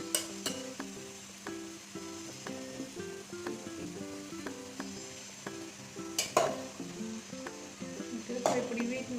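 Mixed vegetables (beetroot, cauliflower, carrot and beans) frying in a pan for vegetable rice, a soft steady sizzle with occasional stirring clatter beneath prominent tonal background music.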